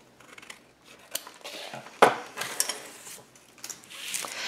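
Scissors snip through paper at an angle while a Stamperia Winter Valley notebook is being made, a run of close, crisp cuts with one sharper snap midway and no talking.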